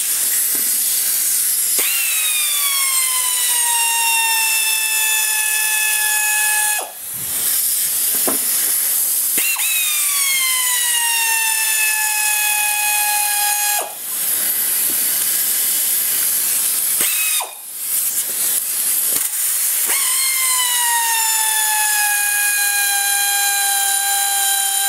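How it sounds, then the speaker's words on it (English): Air ratchet loosening 9/16 differential cover bolts on a Dodge Ram 2500, several long loud hissing bursts of pneumatic tool noise separated by brief pauses. "So I'm gonna use an air ratchet just to speed things up a little bit."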